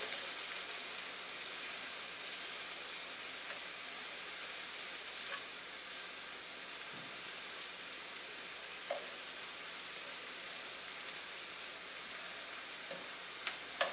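Spicy Mongolian beef frying in a pan, a steady close hiss and sizzle with faint crackles and occasional stirring clicks, no voices.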